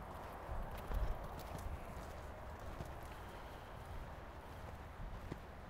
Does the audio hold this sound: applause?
no